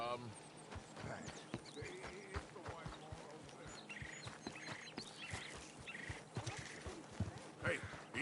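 Horse hooves clop at a walk in Red Dead Redemption 2, soft and steady, with clucking fowl mixed in and voices talking over the whole stretch.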